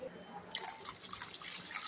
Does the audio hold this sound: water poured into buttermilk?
yes